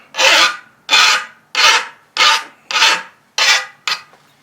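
A hand file rasps across a chainsaw chain on its bar, seven loud, even strokes close by, each a harsh scraping sweep followed by a brief pause.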